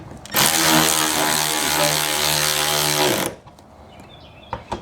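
Power tool driving the side mirror screws on a 2014–2015 Toyota Corolla, a loud steady whirring buzz for about three seconds that stops abruptly, leaving quiet handling noises.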